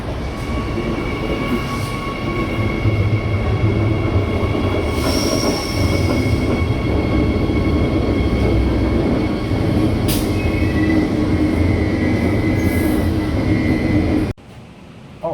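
Heard from on board, a Queensland Rail IMU160 interurban train rumbles steadily, with faint wheel squeals and high whining tones over a continuous low roar that ends abruptly near the close.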